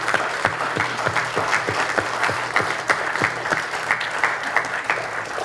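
Audience applause for the 550 volunteers of the Dutch Festival at Elim, a steady, full crowd clapping that carries evenly through the clip with no voices over it.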